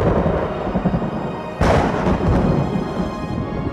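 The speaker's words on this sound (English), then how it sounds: "Galileo was hearing the sound of lightning bolts rippling into the Earth's magnetic field." Lightning radio signals picked up by the Galileo spacecraft from thunderstorms on Earth, rendered as a steady crackling, rain-like static with a sudden louder swell partway through that lingers to the end.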